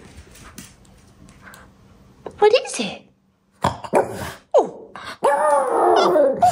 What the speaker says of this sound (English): I'm glad you got your howl back